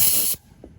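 Air compressor hose hissing as it pumps air into a garden wagon inner tube, a loud steady rush lasting about a third of a second, then cutting off to quiet with a faint knock after.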